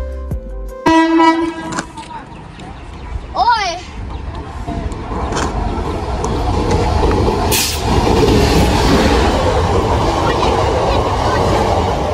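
A train pulls into a station with a passenger service between Ballia and Sealdah: a long horn blast near the start, a brief second toot, then a steady rumble of wheels and carriages that swells toward the end, with platform voices faintly underneath.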